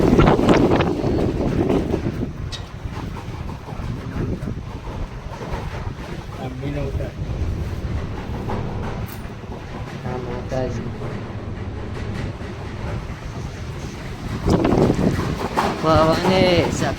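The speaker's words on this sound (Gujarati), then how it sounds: "પવને સખત આવે છે।" Strong wind in forested mountains buffets the microphone with a loud, continuous rumble that surges near the start and again near the end, while brief voices break through now and then.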